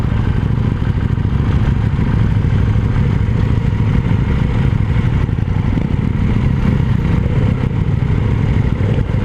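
A KTM 790 Duke motorcycle being ridden, with a loud, steady engine drone and rushing wind noise heard close up, continuous throughout with no talking.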